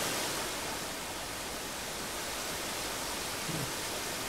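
A waterfall in the game Uru gives a steady, dense roar of rushing water, continuous and unchanging, with no voices.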